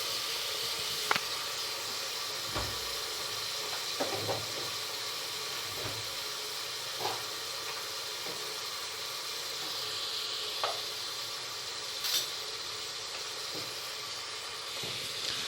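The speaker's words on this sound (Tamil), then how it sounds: "மல்லி இலை போட்டு நல்லா வதக்கி விடணும்." Mint and coriander leaves fry in hot oil with cinnamon sticks and cloves for a beef biryani. A steady, close sizzle runs throughout, broken by occasional soft clicks and scrapes of stirring.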